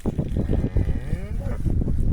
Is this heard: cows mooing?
yes